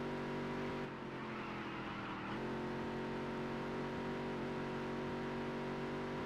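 A race car engine in the racing game Dirt to Daytona drones at high revs, a steady loud whine with a brief dip and shift partway through, continuous and without talk.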